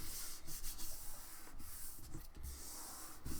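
Fingers rub a folded piece of glued paper flat, a close, steady scraping and brushing friction with short strokes and small pauses, no talk over it.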